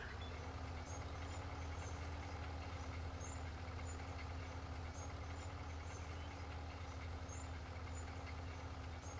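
Steady low engine drone of a New Holland tractor in Farming Simulator 19, a continuous idling hum with a faint whine riding above it, constant and unbroken throughout.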